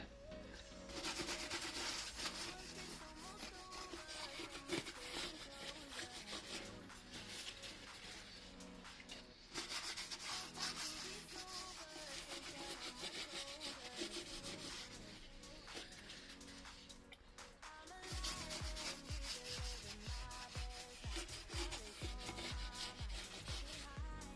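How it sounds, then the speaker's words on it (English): A rag wipes degreaser across the mating surfaces of a Nissan 350z differential, giving faint, continuous rubbing and scuffing in three long bursts separated by brief pauses. "Next I'm going to clean the two mating surfaces up."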